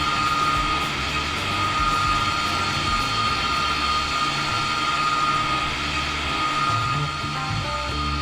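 Steady, loud aircraft engine drone from Microsoft Flight Simulator 2024 as a plane lands on the grass beside a runway, a constant humming roar with a sustained tone and no pauses.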